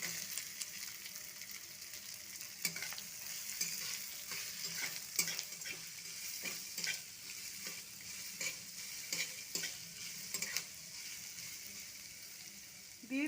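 Chopped onion and grated ginger frying in a pan, a low steady sizzle broken by repeated spatula scrapes and clicks at irregular intervals, close but faint.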